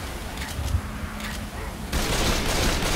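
Rifle gunfire in the Left 4 Dead 2 game, a dense continuous fusillade of rapid shots that jumps louder about two-thirds through, with a steady background din.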